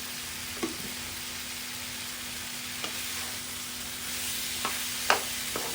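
Lotus stems stir-fried with shrimp in a hot pan give a constant, even sizzle of oil, broken by a few sharp scrapes and clinks from the spatula stirring the food.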